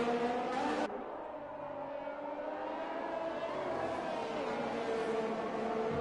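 Formula 1 race cars in the F1 2021 video game at Hungary, a steady engine whine holding a sustained droning pitch throughout, with a brief high burst near the start.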